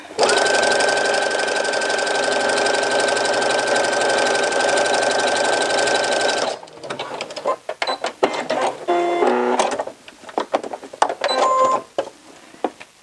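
A sewing machine stitches sweater knit fabric in a loud, steady mechanical whir for several seconds, then stops, leaving scattered clicks, knocks and handling noises.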